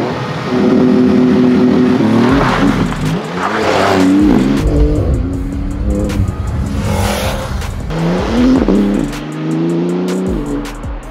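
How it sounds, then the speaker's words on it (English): A Porsche GT2 RS sports car and a Lamborghini-branded Ducati motorcycle race from a standing start, engines revving hard and climbing through gears, loud and close, with a tire squeal and some brief distant voices. "GT2RS versus the Lambo bike."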